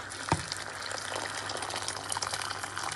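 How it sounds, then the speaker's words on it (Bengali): Hot water gushes into a pot of fried rice for chicken biryani with a sizzling, bubbling rush, a sharp splash at the start, then a steady liquid churn. "রাইস ভাজা হয়ে গেছে এখন আমি গরম পানি এড হইলাম"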